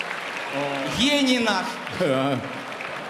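An audience applauding at a stage concert evening, a steady wash of clapping running underneath a loud voice speaking in the foreground.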